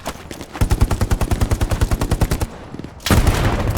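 In the video game Hell Let Loose, rapid machine-gun fire rattles in a steady burst for about two seconds, then breaks off before a loud explosion-like blast erupts at the end.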